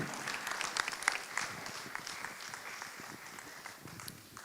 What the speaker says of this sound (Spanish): Aplauso para o Senhor.